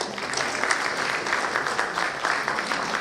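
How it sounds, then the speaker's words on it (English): An audience breaks into sustained applause at a launch event, a dense, steady clapping that stays loud and even from start to end. "can we have a huge round of applause"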